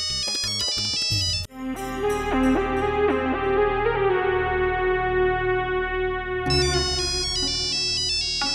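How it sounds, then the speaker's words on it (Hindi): A phone ringtone plays loudly and steadily as a melodic electronic tune, cut by a brief pause and then looping again, with no speech over it. "उठा कमो की बच्ची, फोन उठा।"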